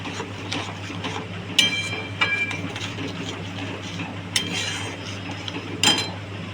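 A spoon clinks and scrapes in a bowl of paneer momo filling as salt is mixed in, with a few sharper metallic taps standing out over a steady low background hum.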